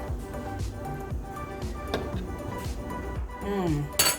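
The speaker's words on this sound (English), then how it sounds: "I'm gonna put this in the soup, mix that in" A spoon stirring Zuppa Toscana soup in a pot, with repeated metallic clinks and scrapes against the pot in an irregular rhythm, close by, and a few faint voice sounds.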